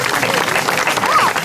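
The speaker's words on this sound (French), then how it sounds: "Vous pouvez l'applaudir." Audience applause at a medieval festival street show, steady dense clapping from a crowd with a voice briefly rising over it near the end.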